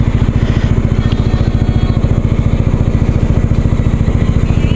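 A motorcycle engine idles nearby with a steady, rapid thumping pulse that stays loud and even throughout, at a paid entrance gate of a monastery in Tarlac, with no talk over it.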